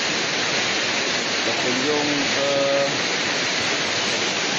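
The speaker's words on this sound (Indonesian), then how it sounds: "air terjun piramid" The Piramid waterfall roars as a steady, loud broadband rush that fills the whole stretch, with a voice talking faintly over it.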